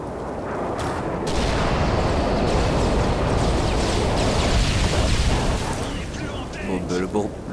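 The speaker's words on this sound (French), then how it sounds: "Bombe larguée." Stealth bomber air strike in Modern Warfare 3, a continuous rolling roar of blasts and rumbling explosions for several seconds, dense and loud, fading toward the end with faint voices.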